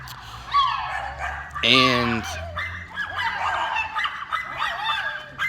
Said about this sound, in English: I never heard a dog cry like that.